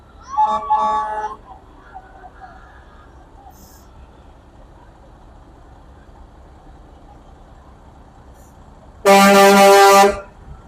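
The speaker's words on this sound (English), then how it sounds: "A few more horns to honk." Truck horns blare in two loud blasts, one short and one longer near the end, during a lighted Christmas parade in a small Texas downtown, with a low idling engine rumbling between them.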